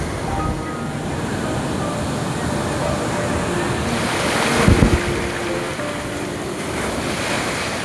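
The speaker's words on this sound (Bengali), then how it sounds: "চুপ করে বসে এখানে সমুদ্রের দৃশ্য ও জলের গর্জন শোনাই এখানকার নিয়ম" Sea waves roar continuously at Tajpur beach near Digha during high tide, with a steady wash of surf and wind buffeting the microphone, and a louder wave surge midway.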